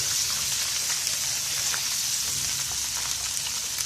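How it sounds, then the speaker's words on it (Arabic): Coriander frying in a pan with molokhia, a dense continuous sizzle with fine crackling, steady and close throughout, no talk. "مادام دخلت على تحمير كده هحط لها شويه كزبره"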